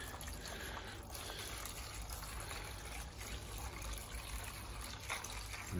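Water runs steadily into the base of tomato plants, a continuous soft gushing trickle, faint and close, with no pauses.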